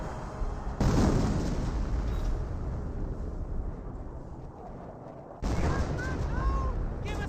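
Gunfire and booming blasts in the World War II strategy game Company of Heroes, with a rifleman squad firing: a dense, loud wash of rumbling explosions and shots that briefly drops away before bursting back in.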